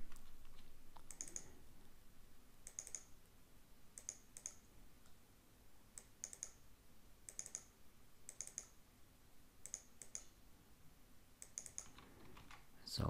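Mouse clicking while selecting edge loops in Cinema 4D, crisp double clicks repeating every second or so at a steady pace, quiet and close, with no speech.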